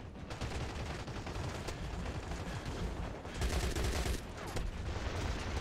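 Gunfire in the video game Crossfire X, dense bursts of shots crackling loudly and continuously throughout, with heavier volleys toward the end.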